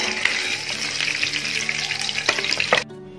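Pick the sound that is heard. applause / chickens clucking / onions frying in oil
onions frying in oil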